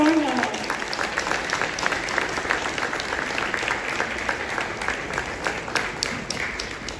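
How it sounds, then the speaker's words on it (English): An audience claps in welcome for Isha Ambani at a lunch event at the Trident Hotel, Marine Lines: steady, dense applause that goes on at an even level throughout, with faint voices underneath. "A big round of applause for her."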